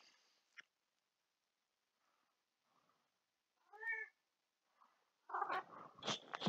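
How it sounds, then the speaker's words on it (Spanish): A cat moves across a person's face at close range, giving a couple of soft meows and faint rustling bursts with quiet gaps between, ending in a louder cluster of cat sounds. "esto es un gato arrastrándose por mi cara"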